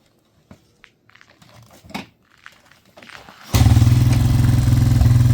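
A motorcycle is fired up on a birthday burnout day: after quiet shuffling, rustling and a few knocks, the engine catches and settles into a loud, steady, close rumbling idle.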